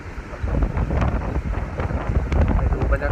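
Strong wind sweeps across Ban Krut beach in Bang Saphan, Prachuap Khiri Khan, in the cool season. It gives a continuous rough roar and buffets the microphone in uneven gusts for the whole stretch.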